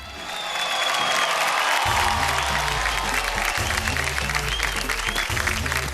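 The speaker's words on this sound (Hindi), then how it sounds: "ये तालियां मेरे जाने की खुशी में है या शाहरुख के यहाँ रहने की?" Studio audience applause on a Friday talk show with Shah Rukh Khan, a loud, sustained crowd clapping that swells in and holds steady over low background music.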